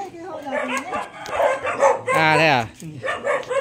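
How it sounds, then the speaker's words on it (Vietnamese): A black dog gives a few barks and whimpering yips, close by and mixed in with people talking in Vietnamese. "Bây giờ lại đến xem con chó này rồi."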